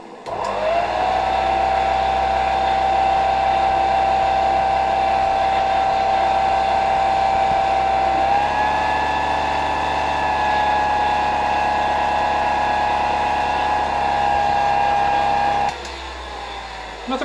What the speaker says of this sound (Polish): Włączam zasilanie i włączę odkurzacz.